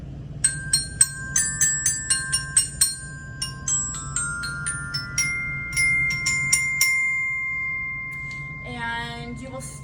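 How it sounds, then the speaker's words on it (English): Orchestra bells of the kind used in a beginning school band, a keyboard-style glockenspiel, struck note by note in a clear ringing sequence with long sustaining tones, followed by a brief burst of voice at the end. "in beginning band, you will get to play the bells"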